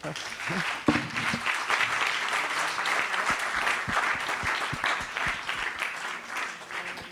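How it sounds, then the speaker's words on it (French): Audience members at a climate round table on coastal overheating and erosion give the speakers a sustained round of applause: continuous, moderately loud clapping from many hands lasting several seconds, with a few louder claps near the start. "On va les applaudir quand même."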